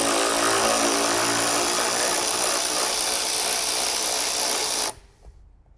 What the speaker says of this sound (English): So you just need a ratchet. You could use a manual one or an electric one like this.